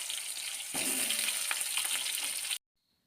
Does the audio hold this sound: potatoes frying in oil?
yes